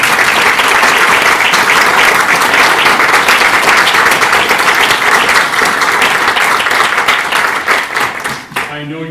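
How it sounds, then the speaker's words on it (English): Sustained, loud audience applause for theatre director Marcia Kennedy at a Stratford Players holiday show in Idyllwild, dense steady clapping that fades out near the end. "A round of applause for this noble lady."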